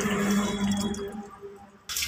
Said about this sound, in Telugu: తగినన్ని వాటర్ పోసుకొని పులుపు చూసుకొని వాటర్ యాడ్ చేసుకొని